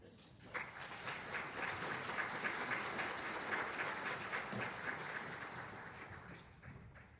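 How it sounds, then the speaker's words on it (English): Audience at a military spouse employment forum gives a round of applause, a dense, even wash of clapping from a large room that swells quickly and holds steady before tapering, moderately distant and soft. "Can we give Lee another round of applause?"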